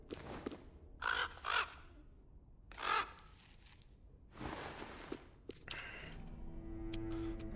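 Croaking caws ring out in the video game The Killing Stone, set among gravestones, with three harsh calls near the start, a pause, then scratchy movement and further bird sounds close by.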